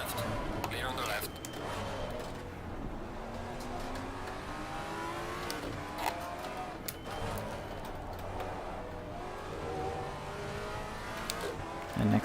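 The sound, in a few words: race car passing in a racing video game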